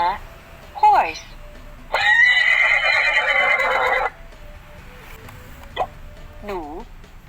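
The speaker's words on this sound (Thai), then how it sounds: "ม้า horse," A horse neighs in a loud, sustained whinny of about two seconds, close to the listener, with shorter snorting and whinnying sounds before and after it.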